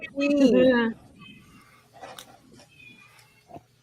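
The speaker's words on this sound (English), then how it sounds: "You hear my cat in the background?" A loud, drawn-out cat meow rings out at the start, followed by quieter rustling and faint household noises.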